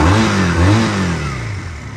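A freshly washed GPX Twin 250 twin-cylinder motorcycle engine runs close and loud, revving briefly before the pitch sinks back toward a steady idle, with no voices.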